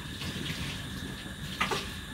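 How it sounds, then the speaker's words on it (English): Tap water runs steadily while food is rinsed before cutting in a home kitchen, a continuous soft splashing hiss with a brief brighter splash near the end. "Not like using soap, just rinse it with water."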